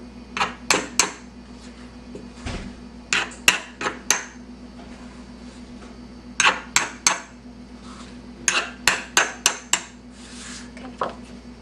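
A utensil scrapes excess pie crust overhang off the edge of a pie dish, producing sharp clinking taps against the dish in quick clusters separated by brief pauses, close and fairly loud.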